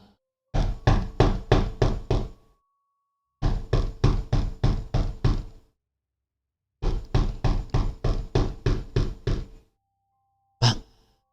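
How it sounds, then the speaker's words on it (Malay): Someone knocks on a door at night in a Sarawak resort, in three bursts of about seven or eight sharp raps each, separated by pauses, followed by one last single knock. The knocks are close and loud in otherwise near-silent surroundings. "Siapa ketuk pintu ya bang?"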